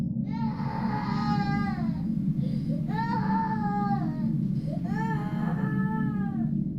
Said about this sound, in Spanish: Se trataba del llanto de una niña, de una jovencita de no más de 10 años quizás.